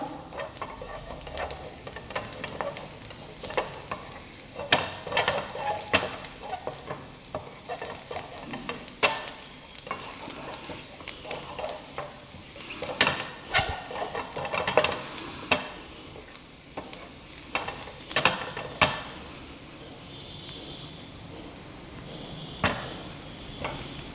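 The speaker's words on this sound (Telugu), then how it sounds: "ఫ్రై చేసుకోవాలి మనం చూసారా లైట్గా బ్రౌన్ కలర్ వస్తుంది" Paneer 65 pieces fry in hot oil in a pan, giving a steady crackling sizzle with sharp pops and bursts of stirring clatter scattered throughout, close by with no voices.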